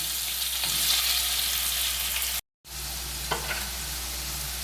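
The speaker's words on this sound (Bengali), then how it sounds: "এই তেলে আলুটা ভেজে নেব। নুন হলুদ মেখে রাখা আলুটা দিয়ে দিলাম।" Potato pieces coated in salt and turmeric fry in hot oil left over from frying fish, giving a close, continuous sizzle. A short dropout is followed by the same steady hiss and a light scrape of stirring.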